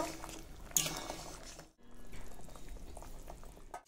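A thin tengra fish curry with potatoes and fried fish bubbles steadily in a pot, a soft continuous simmer that dips briefly to near silence midway before resuming.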